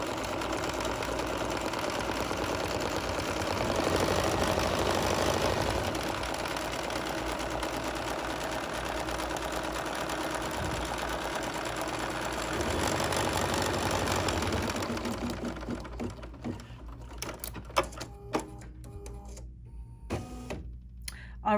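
An embroidery machine runs a basting stitch, a steady, loud mechanical whir and rapid needle chatter for about fifteen seconds, then it stops and slower clicks and handling noises follow.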